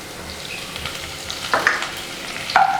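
Curry leaves dropped into hot oil with ginger and garlic in a pan, a steady sizzle that flares into sharp crackling bursts twice as the leaves hit, close and loud, without speech.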